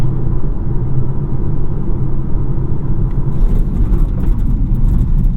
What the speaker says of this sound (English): So get up to 60 and do a braking test.